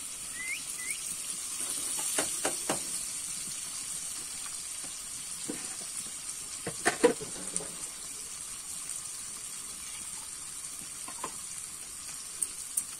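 Spinach paste sizzles in a pan for prawn malai curry, a steady soft hiss of frying with occasional clinks and spoon scrapes, close but moderate in level.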